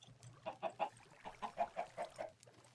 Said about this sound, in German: Ist jetzt eigentlich die Hühnerfarm fertiggestellt?